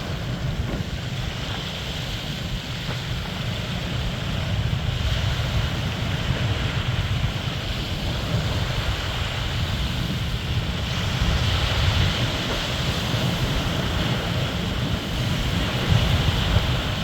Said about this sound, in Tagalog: Pinong-pino ang alon.